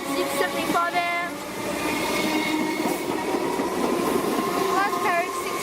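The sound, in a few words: Siemens Metro train arriving at Pascoe Vale station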